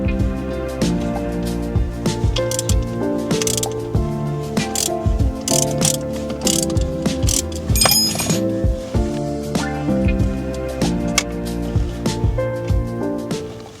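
Ratchet and 12mm socket undoing a nut on the gear lever assembly of a Subaru Impreza 5-speed, with rapid metallic clicking in bursts and clinking tool contact, close and fairly loud, no talk.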